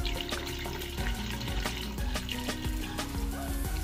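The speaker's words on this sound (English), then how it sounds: "right here, I'm just rinsing off my greens" Collard greens are rinsed under a running kitchen tap, with water splashing and trickling steadily and close, broken by small knocks as the leaves are handled.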